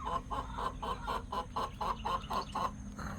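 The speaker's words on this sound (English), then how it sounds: "These chickens are noisy today." Chickens cluck in a steady rapid series of short calls, fairly close, with a low background hum and no talking.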